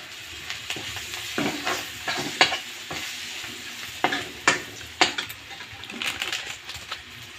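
Chopped onion, garlic and nutella frying in a pan at a home kitchen, sizzling softly with intermittent stirring scrapes and clinks, fairly quiet and close, with no talk.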